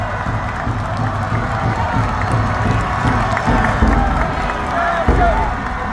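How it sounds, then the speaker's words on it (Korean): A large outdoor rally crowd at Seoul City Hall Plaza applauds and cheers, loud sustained clapping mixed with shouts and crowd noise, with a few thumps and voices blending in. "여러분, 다시 한번 큰 박수 부탁드립니다."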